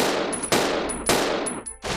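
Gunshots in Resident Evil Zero ring out close and loud, three sharp blasts about half a second apart, each trailing into a decaying echo under a high whining tone.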